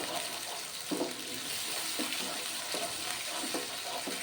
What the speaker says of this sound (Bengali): ভালো করে মশলা কষিয়ে দিয়ে দিলাম এক চামচ আদা বাটা